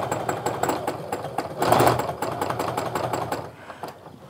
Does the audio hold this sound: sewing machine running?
yes